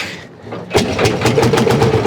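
An Ursus C45 tractor engine, already warm, catches at once with a sharp burst and settles into a loud, steady, rapid thumping run close by.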